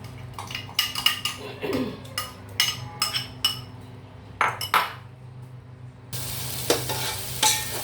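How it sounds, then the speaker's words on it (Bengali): Masala frying in a pan for chicken biryani, stirred with a utensil that scrapes and clinks repeatedly against the metal over a low sizzle, nearby. "মশলাটা আমি কষিয়ে নিই"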